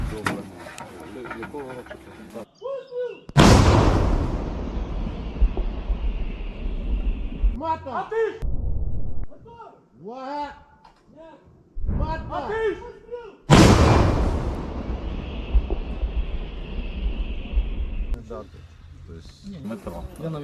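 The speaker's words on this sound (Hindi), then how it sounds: "यूक्रेन ने तोप, मिसाइल और रॉकेट से बड़े हमले रशिया पर किए।" Artillery, missile and rocket fire in the war between Ukraine and Russia: two loud, broadband blasts a few seconds apart, each with a long rumbling tail, separated by quieter stretches where voices talk.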